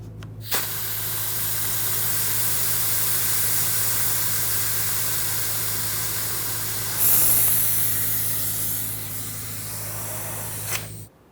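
Pump suctioning brake fluid from the master cylinder of a 2000-2005 Ford Excursion, giving a steady loud hissing spray with a low hum beneath, a brief surge partway through, and an abrupt stop at the end.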